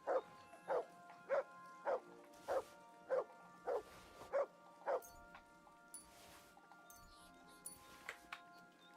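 Mutt, a dog in Kingdom Come: Deliverance 2, barks in a quick, evenly spaced series of about eight sharp barks, then falls quiet with fainter sounds afterward.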